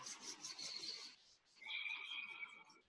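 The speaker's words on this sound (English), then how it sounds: "rub your hands" Hands rubbing briskly together during a guided energy meditation, a soft close friction hiss in two bursts, the second longer and steadier, with no talking.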